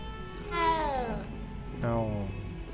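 A cat meows twice inside the Hogwarts Legacy video game. The first meow is a long, drawn-out cry and the second is shorter, both carried over a steady game background while someone speaks.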